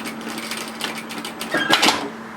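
A sewing machine stitches a seam down on a robe-style garment, a steady close mechanical whir that speeds up and clatters louder near the end, with no talk.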